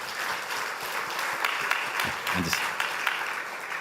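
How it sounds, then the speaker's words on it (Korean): A church congregation gives a newcomer a warm round of applause that stays steady and fills the room. A voice speaks briefly over the clapping. "예, 박수로 환영하겠습니다."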